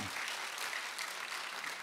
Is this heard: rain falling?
no